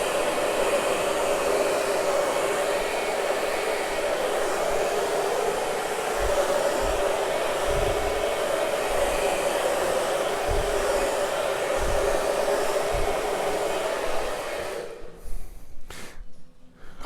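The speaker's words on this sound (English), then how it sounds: "the first hair dryer I bought was way weak. This thing ought to be named Hurricane. It is really blower." A powerful hair dryer blows acrylic paint during a paint pour, making a loud, continuous airy roar for about fourteen seconds before it cuts off, with a few low bumps beneath the rush.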